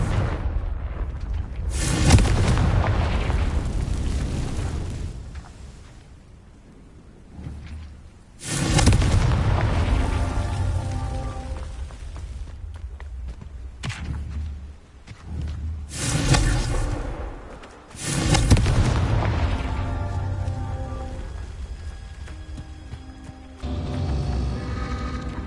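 Confringo explosion spells in the Hogwarts Legacy video game burst in four separate heavy booms, each loud blast trailing off into a rumbling decay before the next one lands.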